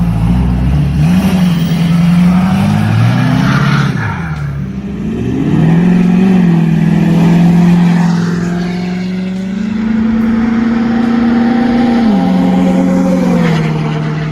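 A car with a loud modified exhaust pulls off a driveway, its engine droning close and heavy, rising and falling in pitch as it revs, then settling into a sustained roar.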